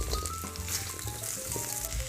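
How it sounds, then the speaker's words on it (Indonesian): Fried tempeh and quail eggs sizzle steadily in a hot pan, a close, continuous crackle of oil with no pauses, alone without talk. "Sekarang aku masukkan tempe yang sudah digoreng tadi, lalu disusul dengan telur puyuh yang juga sudah aku goreng sebentar sebelumnya."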